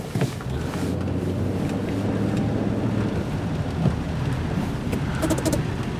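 A car drives through a large water puddle on a wet November street, a steady wash of road and splash noise rolling on continuously with a low engine hum beneath.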